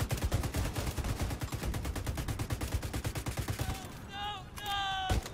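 Rapid automatic gunfire from The Division 2 hammers out loud and steady for about four seconds, then breaks into high electronic tones and beeps from the game.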